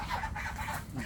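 Chickens cluck softly and continuously in a noisy outdoor farm setting, the calls fairly faint and overlapping.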